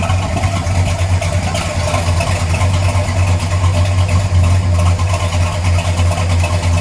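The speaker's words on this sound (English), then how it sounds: "Exhaust note. Let me just let it idle." A 1963 Plymouth Savoy's 426 Max Wedge V8 idles loudly and steadily nearby, a deep rumbling throb that holds an even pitch from start to finish.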